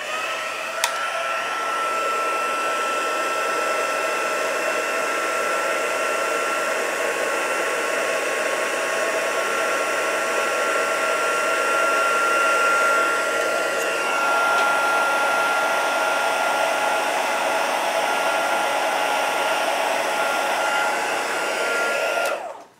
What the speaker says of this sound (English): And we'll heat set this real quick.